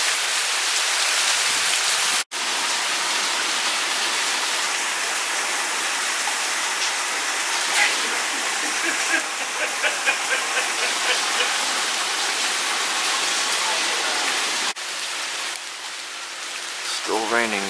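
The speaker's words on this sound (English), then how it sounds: "There's a little bit of rain mixed in, but it's mainly high wind right now." Heavy hurricane wind and rain roar steadily outdoors in Houston during Hurricane Hanna, a dense continuous wash of noise that drops briefly near the start and eases toward the end as a faint voice appears.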